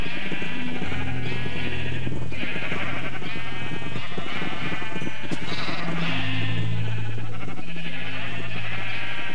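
Sheep in the Minecraft video game bleat repeatedly in overlapping wavering calls, loud and close over a steady background hum, with no talking.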